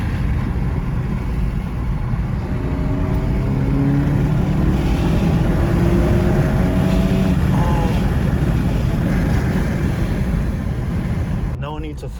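A stage 1 tuned 2019 VW GTI engine revs hard under heavy acceleration, a loud sustained drone with rising tones that holds steady close by throughout, with a speaking voice over it.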